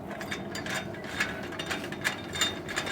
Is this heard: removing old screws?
yes